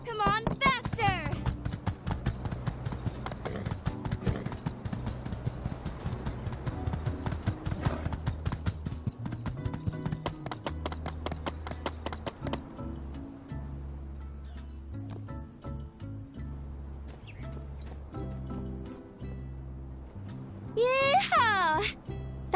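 Horse hooves galloping in the video game My Time at Sandrock, a fast steady clip-clop rhythm running under game music, with a rider's shout near the end.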